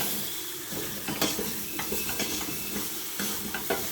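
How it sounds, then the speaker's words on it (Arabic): Vegetables sautéing in a pan for a courgette cream soup, with a continuous broad sizzle and intermittent stirring scrapes and clicks close by. "تحمسوا لي ليغوم تاعكم"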